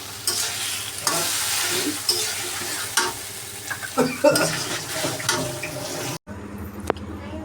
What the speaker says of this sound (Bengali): এখন শাকগুলোকে ঢেলে দিব আমি এর মধ্যে শাকটাকে নেড়ে ফেলে